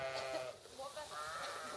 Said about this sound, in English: We had several crosses with Icelandic and then Tunisian, North African sheep.